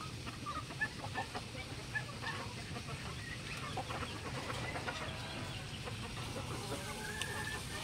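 Chickens cluck softly and irregularly on a farm in the afternoon over a steady low background hum, with an occasional sharper squawk nearby.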